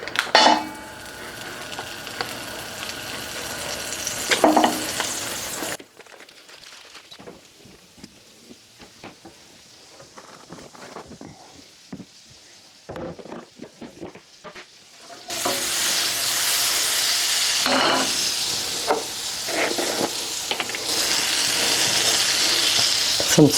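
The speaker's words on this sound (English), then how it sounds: "We're going to add about 2 tablespoons of butter." Butter melts and sizzles in a pan on a medium-low burner while gravy is started. A steady frying hiss sits up close, then drops to quieter crackles in the middle stretch before the loud sizzle returns.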